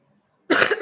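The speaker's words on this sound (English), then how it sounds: "I'm going to be coughing a few times" A single sharp cough bursts out after a half-second of silence, loud and close, on its own with no talk.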